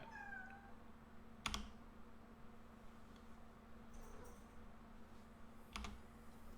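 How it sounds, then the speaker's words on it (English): A house cat gives one brief, faint meow at the very start, then fades under a steady indoor hum with scattered computer keyboard clicks and a couple of sharp taps. "This dang cat."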